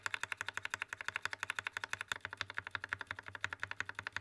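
Rapid, even keystrokes on a mechanical keyboard fitted with Akko switches, stock and lubed, clacking close and alone in a steady typing rhythm with no talking.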